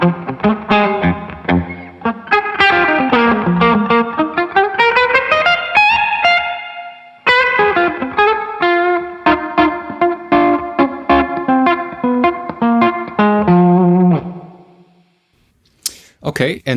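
A Carl Martin HeadRoom Mini compact digital spring reverb with decay, reverb and tone knobs at 12 o'clock, played with electric guitar chords and melodic runs that ring with a splashy spring tail, then fade out before a final pluck.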